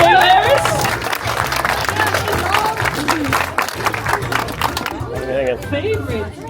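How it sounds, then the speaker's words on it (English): Clapping and cheering for young sailors at a prize gathering, a crowd's applause mixed with chatter and voices, loud and close, with talk rising through it. "can I get a big applause for these young sailors?"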